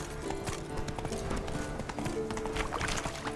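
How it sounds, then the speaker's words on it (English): Horse hooves clip-clop steadily at a brisk pace in The Witcher 3, close and continuous under game ambience, with a faint voice in the background. "Whoa there, Roach."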